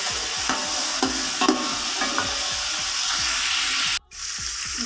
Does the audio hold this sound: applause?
no